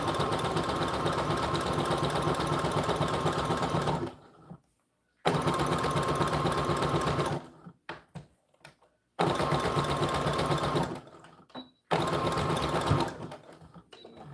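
A sewing machine runs in steady bursts along the edges of doll dress fabric, each run lasting a few seconds and broken by short pauses, close and loud with no talking.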